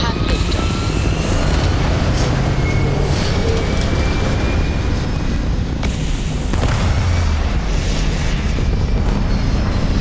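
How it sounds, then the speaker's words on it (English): Spaceship lifting off in the video game Starfield gives a loud, continuous engine roar, broadband and steady for the whole stretch, with a brief surge in the middle and faint voices mixed underneath. "We have liftoff."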